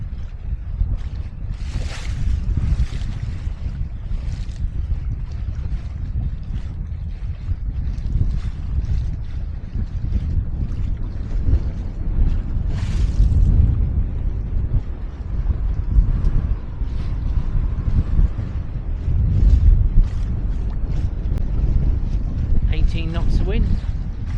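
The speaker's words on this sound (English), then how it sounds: "Quite gusty, but we are actually sailing up Loch Linney." Gusty wind roars steadily across a sailboat heading up Loch Linnhe under genoa and mizzen, with water rushing along the hull throughout and a voice heard over the blustery noise.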